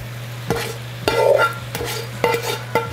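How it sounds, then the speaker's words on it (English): Yakisoba noodles tossed with tongs in a hot pan with vegetables and meat, giving several distinct stirring clatters and scrapes over a steady background hum, with a soft sizzle between strokes. "let's add the noodles. And with the tongs, we're gonna mix everything in"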